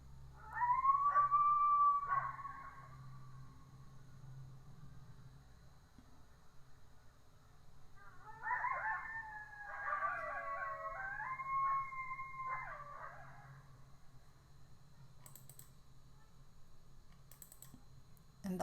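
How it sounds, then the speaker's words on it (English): A coyote howls in long wavering rising and falling cries, first a lone sustained call, then a burst of overlapping yips and quavering howls, followed by a quiet tail with faint clicking. "This is the sound of the coyote."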